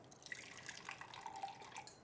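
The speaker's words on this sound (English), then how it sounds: "so we're going to pour this in." Water poured into a cup, giving a faint, steady trickle with a few small drips and splashes over about two seconds, with no voices.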